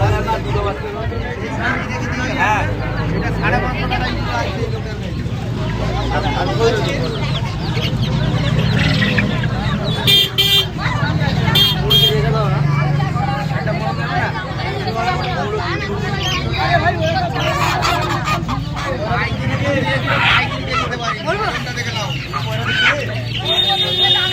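Chickens and roosters cluck and crow at the Uluberia poultry and pet market, a dense, loud, continuous din with a crowd babbling throughout.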